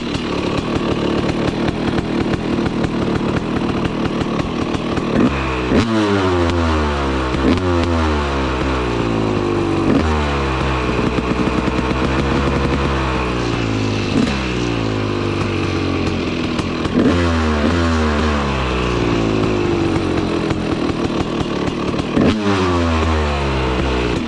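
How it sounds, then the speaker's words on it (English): A two-stroke motorcycle engine revs repeatedly, rising and falling in pitch, loud and close with a buzzy, raspy tone and no speech. "There's a little bit of the sound for the two-stroke junkies out there."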